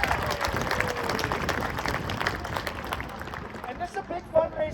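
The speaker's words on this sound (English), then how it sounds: "So, round of applause for you all." An audience applauds at a family and friends performance, giving sustained dense clapping with crowd murmur under it.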